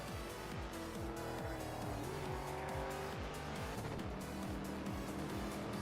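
Race cars, including a Shelby GT350, roar around a tight track in a racing video game, with repeated rising engine revs, gear changes and squealing tires.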